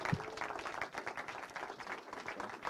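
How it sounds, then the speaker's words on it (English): A theatre audience claps and applauds steadily to welcome a presenter onto the stage, a broad wash of many hands that stays even throughout without any talk over it. "please join me in a big round of applause and welcome Fred to the stage"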